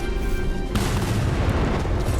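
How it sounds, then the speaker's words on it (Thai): A deep, heavy boom bursts in suddenly and rumbles on, a bomb explosion in Starship Troopers: Extermination with a low, sustained roar. "ระเบิดตรงนี้ก่อนลูกหนึ่ง"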